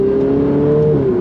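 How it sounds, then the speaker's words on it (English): Ferrari 488 Pista exhaust droning at low speed, a steady close engine note with a smooth even tone, no sharp rise in revs. "at slow speeds, the exhaust sounds good"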